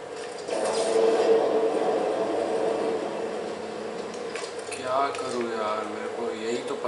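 A futuristic train in the video game Dead Space 3 runs with a steady, loud rumbling drone and metallic rattling, while someone talks over it.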